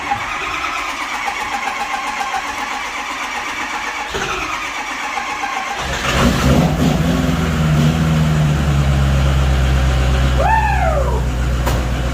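Ford F150 Powerstroke diesel, helped by a battery charger, turning over and firing up after a stretch of background noise, then running at a loud low idle nearby.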